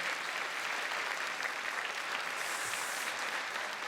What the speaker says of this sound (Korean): 여러분 큰 박수로 격려하겠습니다